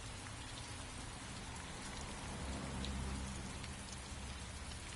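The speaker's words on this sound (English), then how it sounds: "It's wet outside, there's lots of rain." Heavy rain falling outdoors, a dense constant patter and hiss on surfaces, steady and close with no voices.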